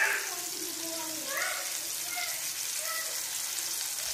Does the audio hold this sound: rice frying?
yes